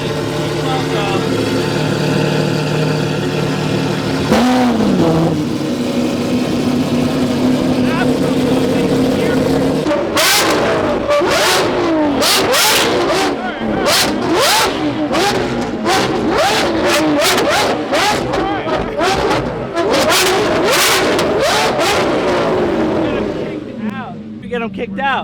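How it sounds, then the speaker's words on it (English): A Lamborghini Countach engine on a cold startup: a steady loud running drone, then from about ten seconds a burst of sharp revving and crackling pops repeated over and over, close and loud, ending in a drop. "This is a cold startup on a Lamborghini COUNTACH."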